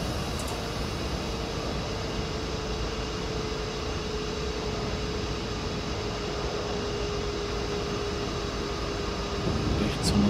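A regional train pulls out of a station in Train Simulator 2019, a steady broadband rumble with a faint whining tone that holds constant throughout and swells slightly at the end.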